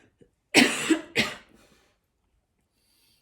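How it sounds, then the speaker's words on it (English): Two sharp coughs in quick succession, close and loud, followed by near silence. "I'm about to cough."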